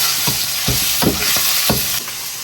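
Eggplant pieces frying in a hot wok with chili bean paste and red oil, a loud continuous sizzle broken by about five rhythmic stirring scrapes close by.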